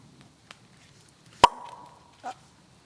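A corkscrew draws the cork from a bottle of 2014 white Graves wine with one sharp, close pop, followed by a faint ringing tone and a small clink in a quiet cabin.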